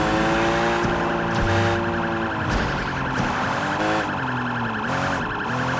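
Police car sirens wail in the Xbox 360 racing game Need for Speed Hot Pursuit, several overlapping rising and falling tones with engine rumble, loud and continuous.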